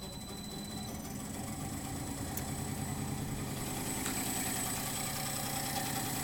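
A fan motor on a venturi tube test rig runs with a continuous, even mechanical drone and a rough, rattling texture, steady and moderately loud throughout with no speech.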